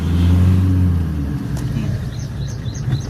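A car accelerates in second gear during a driving lesson, its engine a loud, steady low rumble that eases slightly partway through, with faint birdsong in the background.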